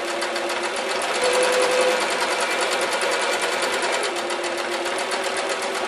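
A sewing machine that is due for oil runs a continuous, close, even-paced zigzag stitch through quilt fabric for a cathedral window quilt.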